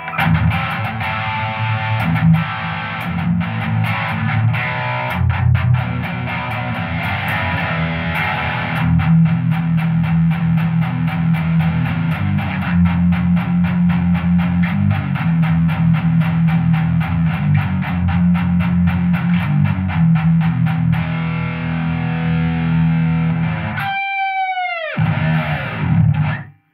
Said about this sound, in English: here's what it sounds like with some distortion in this bass